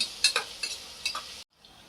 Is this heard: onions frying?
yes